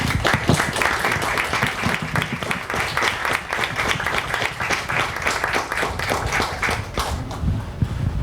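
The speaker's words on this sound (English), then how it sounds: "warm applause for that" Sustained audience applause at a roundtable event, dense and steady clapping filling the whole stretch at a fairly loud, even level with no voices over it.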